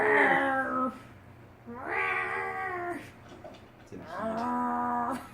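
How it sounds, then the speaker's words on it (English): A cat in heat yowls in three long, drawn-out wailing meows, fairly close and loud, with low background hum between cries. "It sounds like a cat."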